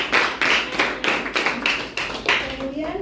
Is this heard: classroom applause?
yes